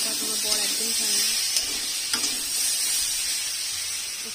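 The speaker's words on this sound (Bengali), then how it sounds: "মশলাটা একটু কষিয়ে নিচ্ছি আগে ভালো করে" Spice paste with ginger paste, salt and turmeric sautés in a pan, making a steady, close sizzle with faint stirring, while a voice is heard briefly at the start.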